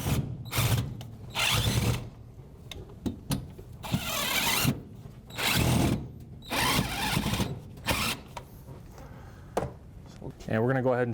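A power drill drives screws into wall studs while a microwave is flush-mounted. Repeated bursts of loud whirring last about a second each, with brief pauses between them, and a voice speaks in places.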